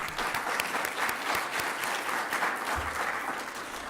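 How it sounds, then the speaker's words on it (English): Audience applause welcoming a government minister at the opening of a climate change conference at Griffith University, a steady, dense clapping that holds at even loudness throughout. "Can we give him a clap, please?"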